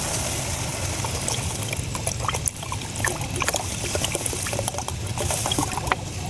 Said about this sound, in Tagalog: Lalagyan na natin ng water.